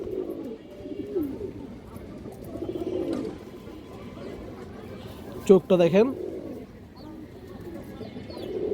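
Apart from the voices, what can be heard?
pigeons cooing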